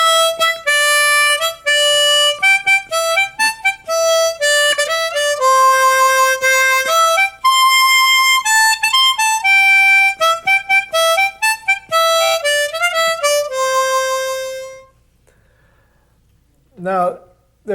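Harmonica plays Camptown Races as single notes using the pucker method, a bright reedy melody of short and held notes played close, followed by a brief breath at the end.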